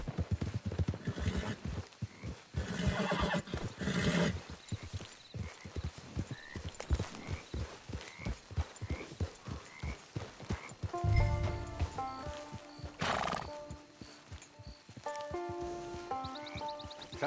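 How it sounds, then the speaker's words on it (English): A horse in the Red Dead Redemption 2 video game clip-clops along at a steady rhythm, then lets out a clear whinny near the end, with some ambient game sounds around it and no talk. "It's your horse."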